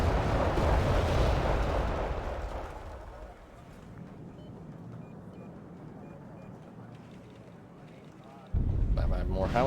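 Howitzer artillery fires in the Wargame: Red Dragon battle game, a heavy booming blast followed by a low rumbling tail, then another sharp loud burst near the end, with someone talking over the gunfire.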